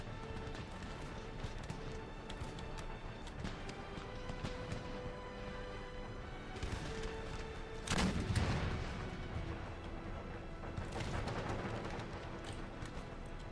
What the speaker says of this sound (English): one more shot from this cannon, and this should be it